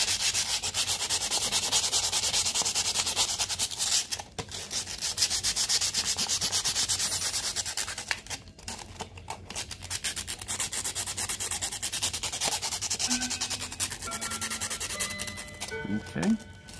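Reused glass pieces have their edges sanded smooth with a loud, continuous abrasive rubbing that runs in long strokes, pausing briefly a few times before a final scraping burst.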